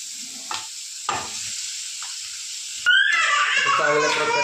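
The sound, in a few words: boiled potatoes stirred into sizzling dosa masala in pan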